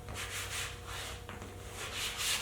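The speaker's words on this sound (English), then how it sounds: "they're a little bit rough, so I need to basically sand down" Sandpaper rubs back and forth over a rough canvas in quick, close, faint rasping strokes, a soft scratchy texture repeating evenly.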